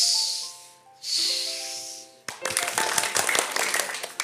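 An audience at a Christian TV programme does an "angel clap": two long breathy whooshes over soft sustained music, then a sudden burst of loud, dense group clapping.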